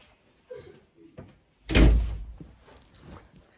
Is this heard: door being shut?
yes